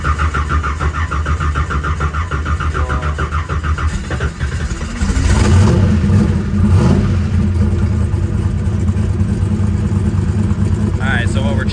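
A twin-turbo big-block Chevy Nova engine cranks and catches, then settles into a loud, rough idle with blips of revving, up close, with people talking over it.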